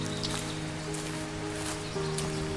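Spring rain falls through a mountain forest in Turkey, a steady soft patter and hiss on leaves with a faint low hum beneath, no voices.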